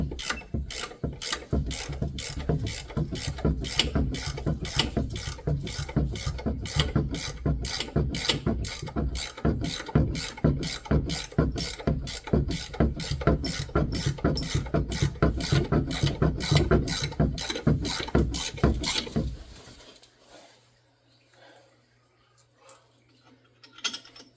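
A ratchet clicks in a fast, steady rhythm for about twenty seconds while bolts are tightened during a strut replacement on a 2014 Chevy High Country, close and loud, then stops abruptly, leaving faint background.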